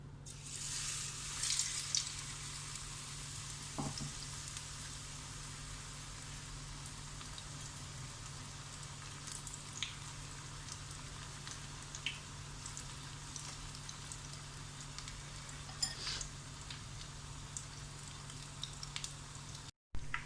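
Onion bhajji fry in hot oil with a steady, soft crackling sizzle that fills the background, broken by occasional faint pops and clinks.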